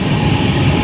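Dakshin Express passenger train running on rails between Hyderabad and Delhi, a steady loud rumble with dense low clatter from the wheels throughout the short moment, no talking.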